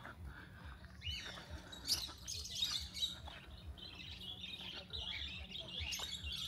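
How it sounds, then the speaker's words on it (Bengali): Small caged birds chirp and tweet near a resort reception in Gazipur, with scattered high calls and squawks repeating over steady low background hum and footsteps, moderately faint throughout. "এবং এখানে একটা পাখির খাঁচাও আছে"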